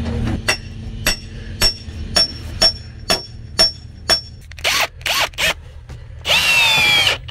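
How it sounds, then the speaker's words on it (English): Hammer blows drive a wooden stake into the ground to set concrete porch forms, about nine sharp, evenly spaced strikes close by, followed by louder scraping, rattling handling noises near the end. "grab a stake and that hammer and come down here"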